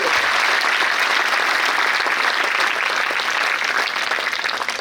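An audience at a talk by a revered swami applauds, dense sustained clapping heard close and loud for several seconds, tapering slightly at the end.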